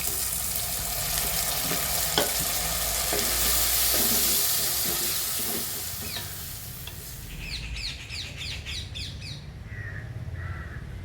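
Green chillies and chopped tomatoes sauté in a pan for a dry mango kuzhambu, with a steady sizzle and scraping stirs while crows caw and other birds call in the background; no one speaks.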